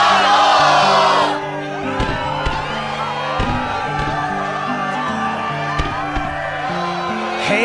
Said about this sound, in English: Yes, the crowd is fired up, so you know what comes next.